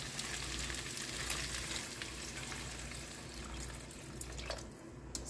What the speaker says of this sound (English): I have some beef broth over here. Let's add some and turn it up a bit